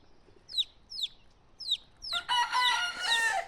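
Young cockerels at a farm: a few short chirping calls spaced about half a second apart, then a strained, breaking crow rising into loud clucking and squawking near the end, close and clear.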